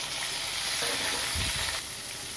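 Onions and green chillies sauté in a hot pan, giving a loud, continuous close-up sizzle with a brief low rumble of stirring partway through and no voices.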